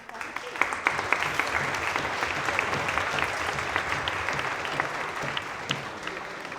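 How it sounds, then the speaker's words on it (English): A student audience at a Cardiff Students' Union candidate question time bursts into sustained applause for the Vice President, dense steady clapping filling the room for several seconds with a hint of crowd murmur. "one big round of applause to our Vice President"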